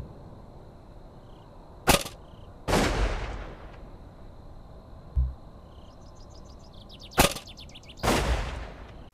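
Shotgun blasts in an American trap competition within a sports shooting video game: four sharp, loud reports in two pairs, each with a short decaying tail, heard alone over a quiet background.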